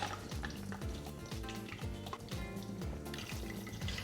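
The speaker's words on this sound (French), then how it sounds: "Je vais les faire frire pour les faire dorer." Eggplant pieces frying in a deep bath of oil, with a steady, dense sizzle and crackle, interrupted by repeated rhythmic low tones and knocks from the kitchen.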